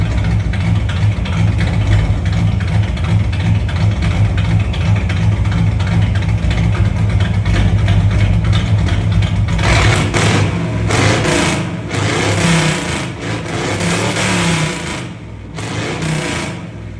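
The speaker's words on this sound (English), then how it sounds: "Entire full exhaust, and it's straight pipe. It doesn't sound the best," A 600hp engine in a third-generation Camaro runs with a straight-pipe full exhaust, a loud, steady, rapid rumble that continues throughout, with rougher surging bursts in the second half.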